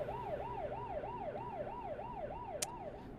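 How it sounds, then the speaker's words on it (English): A police car siren wails in a steady up-and-down sweep as it passes in Euro Truck Simulator 2, carried over a low truck engine rumble, with a brief sharp click near the end. "There's a police car driving past."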